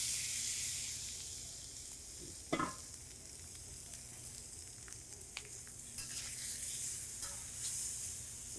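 Fresh shrimp sizzling gently in a pan over low heat, a continuous soft hiss with a few sharp clacks and light scrapes of a utensil, close and fairly quiet, with no talking.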